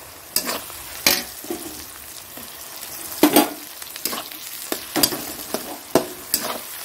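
An egg fries in a wok with a steady sizzle, broken by a series of sharp spatula scrapes and clacks against the pan at irregular intervals, close by and with no talking.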